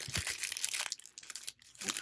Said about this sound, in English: shuffle them up a little